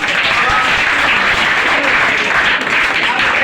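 A room full of students claps loudly and continuously during a Bihar Board class 10 Hindi exam review session, a thick wall of applause with no pauses, fairly close.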